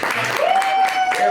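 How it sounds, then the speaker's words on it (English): A comedy club crowd gives a short round of applause, a steady patter of many hands, while talking and a thin sustained tone run over it. "A round of applause here."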